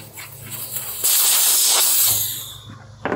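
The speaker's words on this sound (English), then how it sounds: "the first order of business is to deflate the tires, and I'm going to make that process a little bit quicker by removing the valve core" Sharp burst of air hissing from a tubeless bike tire with the valve core removed, surging loud after a short lead-in and tapering off, then a clunk at the end.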